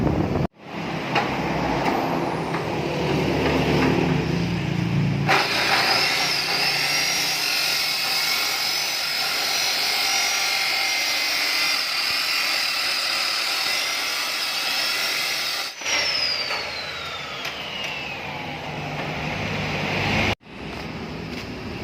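A Honda Civic fitted with an HKS muffler revs and holds a loud, droning engine note for long stretches, with short drops between pulls and a rising whine near the end; no talk.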